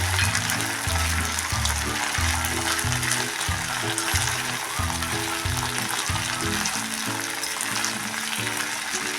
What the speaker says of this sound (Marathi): आता त्यामध्ये टाकूया हा कांदा कांदा पण आपण चांगला असा तीन चार मिनटं मऊ होईपर्यंत परतून घ्यायचा आहे